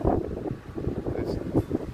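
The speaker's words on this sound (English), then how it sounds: "I know it's windy here." Gusty wind blows outdoors in the town of Batesville, Indiana, buffeting the microphone with a low, uneven rumble that swells and fades under someone talking.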